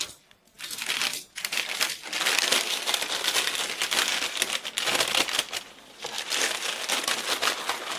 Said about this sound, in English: I'm going to take away the parchment gently around the edges.